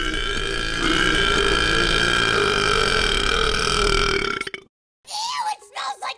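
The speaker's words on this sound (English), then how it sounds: "You may need to burp young babies." A baby in a Brawlhalla game animation lets out a long, loud cartoonish burp lasting several seconds, followed by a short silence and then brief bursts of child-like voice.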